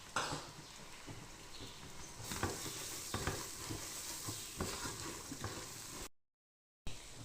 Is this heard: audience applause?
no